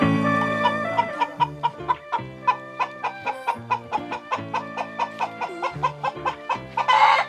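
Chickens clucking on an Australian farm in the Northern Territory, a close, steady run of rhythmic clucks and short calls repeating about every quarter second, with a louder squawk near the end.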